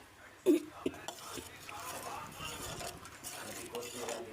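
Kidney bean rajma curry being stirred in a pot after salt goes in, with a sharp utensil knock on the pan followed by soft, continuous stirring and scraping, fairly quiet and close.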